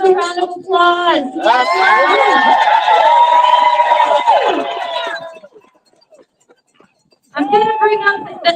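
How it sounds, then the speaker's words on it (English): A crowd at a striking nurses' rally cheers and whoops loudly for several seconds, with shouted voices over sustained noise, then falls silent before voices rise again at the end. "How about we give another round of applause?"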